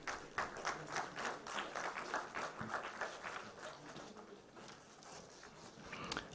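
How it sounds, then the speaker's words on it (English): A conference audience at an e-mobility workshop claps for a speaker, a moderate, slightly distant patter of many hands that holds steady and then slowly thins out. "Please give him a round of applause."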